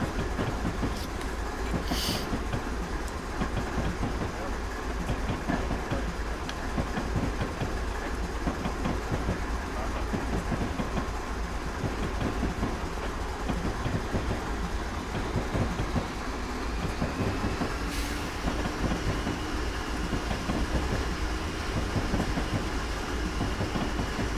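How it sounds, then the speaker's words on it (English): A Union Pacific ES44AC freight train rumbles past in Train Simulator's Feather River Canyon route, its wheels clacking in a steady rhythm over a continuous engine drone, with a couple of brief higher squeals. "This is that train we saw on the map a minute ago."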